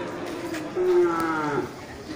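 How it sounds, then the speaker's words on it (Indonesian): An Aceh cow standing with her male calf lets out one sustained, fairly close moo midway, over a quiet outdoor farm background. "Sapi Aceh."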